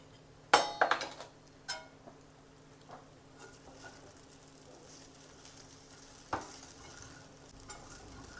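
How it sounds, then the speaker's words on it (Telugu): Sago and potato khichdi frying in a pan, a soft steady sizzle with a burst of spoon clinks and scrapes against the pan near the start and another knock later, no talk. "ఇది ట్రాన్స్పరెంట్గా అయ్యేంత వరకు ఫ్రై అవ్వాలి."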